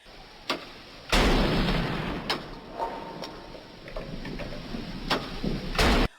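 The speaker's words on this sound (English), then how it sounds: "There was an elaborate ceremony punctuated by a 21-gun salute." Cannon blasts of a 21-gun salute boom at a ceremony in Nassau, Bahamas, arriving as a handful of separate reports spread over several seconds, one heavy and rolling, the others sharper and more distant.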